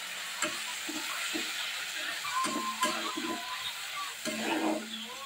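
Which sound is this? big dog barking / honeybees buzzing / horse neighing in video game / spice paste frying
spice paste frying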